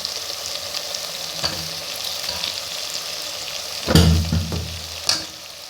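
Potatoes and mutton sizzling and frying in hot oil in a pot for aloo gosht curry, a steady crackle with bursts of louder hissing and stirring near the end.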